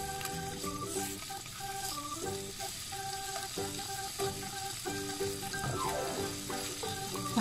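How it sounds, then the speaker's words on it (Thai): Bacon and hot dogs frying in a pan over medium heat give a steady, busy sizzle with crackling spatter throughout, fairly close and uninterrupted, with music playing underneath and no talking. "แล้วก็เอาเบคอนลงเลยค่ะแล้วก็ฮอทดอก น้องจะใช้ไฟกลางๆนะคะในการทอดไม่ใช้ไฟแรงมากเกินไป"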